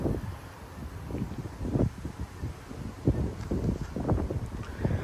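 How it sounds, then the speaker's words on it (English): Strong gusts of up to 30 mph hit a street outdoors in Frisco, Texas, buffeting the microphone in repeated loud, low rumbling bursts over a constant windy roar, with no talk. "Yeah, it's very windy today."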